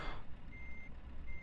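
Steady electronic reversing beeps from a truck in Euro Truck Simulator 2, two evenly spaced tones heard over a constant low engine rumble, with no talking.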